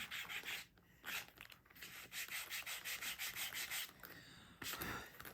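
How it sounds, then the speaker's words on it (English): Rhythmic back-and-forth strokes sanding a leather edge with a flat sanding block, a steady raspy scratching repeated quickly, close up and fairly quiet, with a couple of brief pauses. "This is just a little sanding block I got from Lee Valley."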